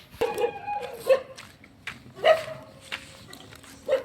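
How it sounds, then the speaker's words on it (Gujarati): Several dog barks ring out at irregular intervals, fairly close and sharp, with quieter yips and whines between them. "તો મિત્રો કૂતરા ભૂવે હે"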